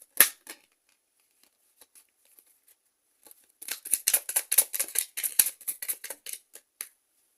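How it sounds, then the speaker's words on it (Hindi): A tarot card is drawn from the deck: first a lone crisp snap, then a few faint ticks, then a quick run of close, sharp paper flicks and clicks, as if the cards are riffled or shuffled, with no talk. "तो एक कार्ड और लेंगे कंफर्मेशन के लिए"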